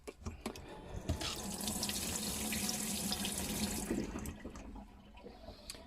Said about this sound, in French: Donc ça c'est la pompe de l'évier.